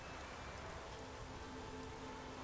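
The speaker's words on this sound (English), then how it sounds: "Looks like rain." Steady rain falling on a surface, a constant even hiss of drops at moderate, distant level with no voices.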